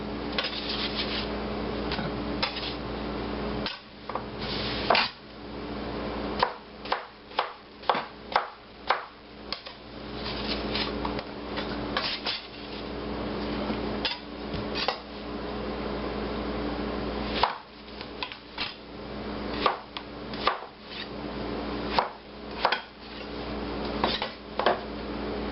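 A knife chops potatoes on a cutting board, giving a run of sharp, close taps in uneven bursts with short pauses between them, and no talking.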